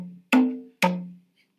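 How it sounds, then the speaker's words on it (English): Conga drums in an online Song Maker tool: two hollow, resonant hand-drum hits about half a second apart, close and clear, each decaying quickly into silence. "And here's what conga sounds like."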